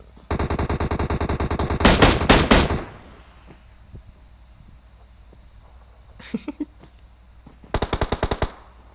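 Loud bursts of automatic gunfire in PUBG Mobile: a long rapid stream of shots, then a few heavier close rounds, a short distant burst, and a final quick rattle of fire near the end.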